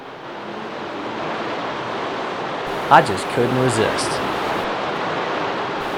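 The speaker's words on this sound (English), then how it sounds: "Clean, fresh river in the middle of the rainforest." Steady broadband rush of a clear rainforest river flowing in Costa Rica, continuous throughout, with a brief burst of talk and laughter over it midway.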